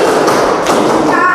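Students in a vocational school classroom clap in unison three times, loud, close and crowded, each group clap a broad smack of many hands blurring into the next.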